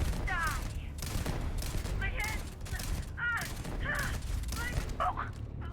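Shotgun fire in the video game Starfield comes as a string of loud, punchy blasts spaced about a second apart, mixed with game sound effects and layered over someone talking.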